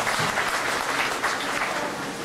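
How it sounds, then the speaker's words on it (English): An audience at an MGM Studios water-tank stunt show in 1998 breaks into dense, steady applause that stays loud and even from start to finish, a continuous wash of many hands with no voices standing out. "Have a round of applause for both of them"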